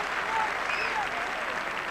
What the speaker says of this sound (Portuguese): Muito aplaudido, Manis.